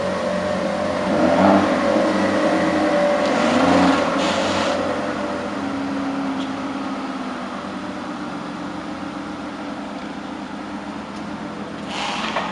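An Aston Martin DB9 V12 engine runs steadily nearby, a low continuous rumble with a couple of brief rises in intensity, no talking.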